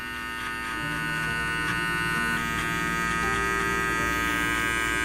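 Electric hair clipper used for a taper fade at a barbershop, a steady close mechanical hum running continuously with no talk.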